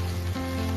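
Kangkong with sesame and garlic sizzles steadily in a hot pan while being stirred, a close, continuous frying hiss with no voices.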